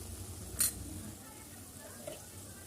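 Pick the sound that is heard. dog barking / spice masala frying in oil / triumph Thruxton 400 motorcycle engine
spice masala frying in oil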